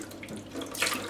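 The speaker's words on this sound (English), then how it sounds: "start adding some fresh water to clean it off and rinse away some of those sides" Fresh water running from a tap while a clear Lexan RC car body is washed and rinsed, a steady soft splashing hiss that swells slightly near the end, no voices.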